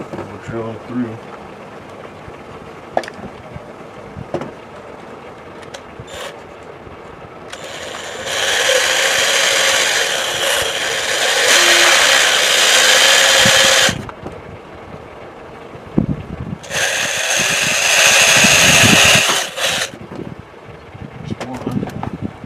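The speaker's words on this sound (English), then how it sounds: "Drilling through." Two bursts of a handheld power drill boring small holes through the back of a homemade gear caddy and chip-can holder, a longer steady whine followed by a shorter one, close and loud, with quiet handling noises between.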